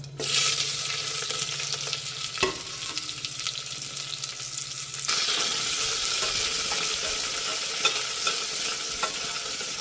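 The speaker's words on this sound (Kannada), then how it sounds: "ನೋಡಿ ಈರುಳ್ಳಿ ಹಾಕಿದ್ದೀನಿ, ಫ್ರೈ ಆಗ್ತಾಯಿದೆ" Onion fries in oil with curry leaves and mustard seeds, giving a bright, continuous sizzle with stirring, one sharp utensil knock midway and the hiss growing louder in the second half.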